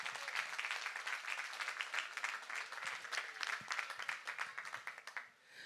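Crowd applause at the opening ceremony of a Relay for Life charity event in Rixensart, steady dense clapping for several seconds that thins and fades out at the end.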